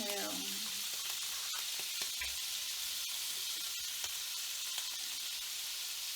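Minced garlic sizzles in a hot pan with a constant fizzing hiss, close and even, broken by a few faint clicks of a utensil; no talking.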